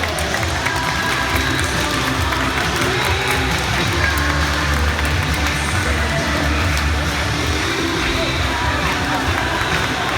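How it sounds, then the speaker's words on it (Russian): A dolphinarium audience in Dzhubga applauds the dolphins, a dense continuous wash of clapping and crowd noise that stays loud and steady throughout. "Зрители, поаплодируйте дельфинам, ведь они аплодируют вам"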